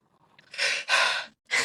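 A pet dog breathes heavily close to the microphone, with a few loud, breathy exhalations in quick succession, each a rough airy puff separated by short pauses.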